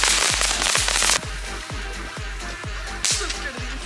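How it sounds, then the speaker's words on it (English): New Year's fireworks and firecrackers go off in Port Aransas, Texas: a rapid string of loud, close pops and cracks with bright crackling bursts, heard on their own. "It's the first time we have fireworks on the vlog."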